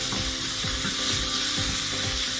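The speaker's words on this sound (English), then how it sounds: "Let's saute this." Tomatoes sautéing in a pan with red chilli powder, giving a steady close sizzle and frying hiss with faint stirring clicks throughout.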